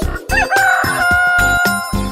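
A rooster crow rings out in a children's nursery rhyme, loud and drawn-out over rhythmic, beating backing music.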